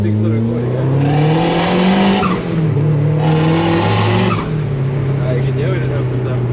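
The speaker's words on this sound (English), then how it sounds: "easiest thing to do before you go to the track is actually just test your car for a skid" A car engine revs hard with rising and falling pitch as tires squeal in drawn-out skids, loud and close, with voices talking underneath.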